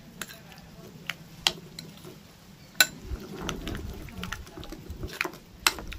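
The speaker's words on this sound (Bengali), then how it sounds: "এইবার এটাকে ভালো করে দুটো মিক্স করে দেবো" Grated cucumber raita being mixed in a bowl, with soft wet stirring and scattered light clicks of a spoon against the dish, close and fairly quiet.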